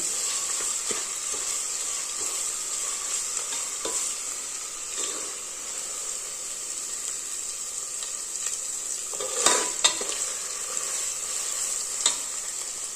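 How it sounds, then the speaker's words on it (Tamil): Onions for vegetable biryani frying in a pan with a constant bright sizzle, broken by occasional stirring scrapes and clinks, close and steady throughout. "வெங்காயம் நல்லா கோல்டன் கலர் வர வரைக்கும் வறுத்துக்கோங்க"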